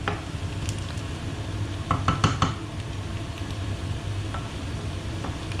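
Wood pigeon fillets fry in oil in a pan with a steady crackling sizzle, punctuated by a few sharp clinks and scrapes of a utensil midway; no voices.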